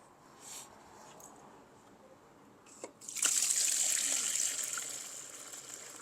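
Dirty water from commercial office carpet cleaning is poured out, starting as faint dribbles and then a steady trickle, soft and close, after a brief knock.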